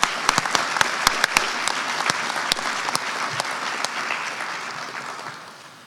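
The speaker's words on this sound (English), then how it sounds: "Please help me show our appreciation for our platinum sponsors with a tremendous round of" At a Native education convention, a large audience gives the platinum sponsors a sustained round of applause. Sharp individual claps stand out near the start over a dense wash, which slowly fades toward the end.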